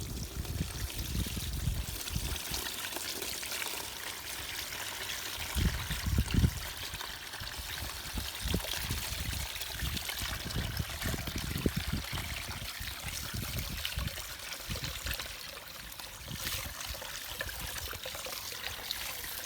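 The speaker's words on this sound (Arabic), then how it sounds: "ببدا اغسل الفلتر، اغسله بالماء بس من داخل لبرا" Steady running water pours and trickles as a K&N air filter is rinsed from the inside out, a continuous moderate splashing stream with no talking.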